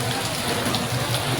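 Heavy rain pours steadily during street flooding as floodwater rises past parked motorcycles and traffic, a dense, continuous wash of water close by with no break.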